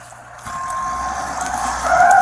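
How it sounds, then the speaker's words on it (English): A backhoe sounds its reversing alarm, repeated high beeps rising over a rumbling engine that grows louder and closer toward the end. "this is a backhoe ramming into a cop."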